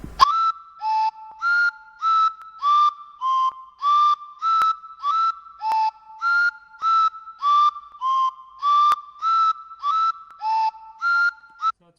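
A repetitive, whistle-like synthesized melody loop from a music loop library cycles steadily, with evenly spaced bright tonal notes repeating in a fixed pattern, clear and prominent with no voices.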